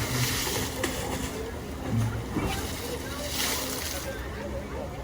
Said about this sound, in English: But the waves are working here again.